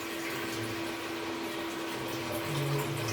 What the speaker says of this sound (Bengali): এখানে এখন আমি পরিমাণ মতো পানি দিয়ে দিব।